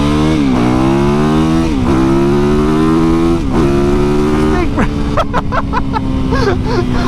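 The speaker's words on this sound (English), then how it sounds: "I'm still getting used to the power on this bike" A 450cc supermoto motorcycle engine while riding, loud and close, climbing through the gears with several upshifts, then a burst of sharp revs and throttle blips near the end.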